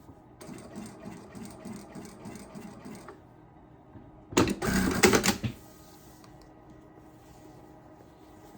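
A sewing machine stitching and automatically backstitching fabric while attaching a label to a dining scarf, a rapid rhythmic mechanical clatter that stops, then a louder burst of fast whirring stitches before quiet.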